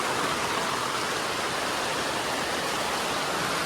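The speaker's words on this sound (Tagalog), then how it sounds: "grabe lang lakas ng ulan" Heavy rain pours down, flooding the area: a dense, steady hiss of water, unbroken and fairly loud throughout, with no voices.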